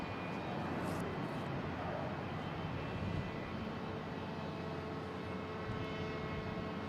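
A JetBlue Airbus A321 lined up on runway 27 at Boston Logan International Airport, heard as a steady distant jet engine roar with broadband rumble throughout, no voices.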